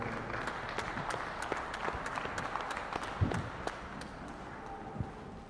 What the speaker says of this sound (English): let's give these breeders, these exhibitors a great round of applause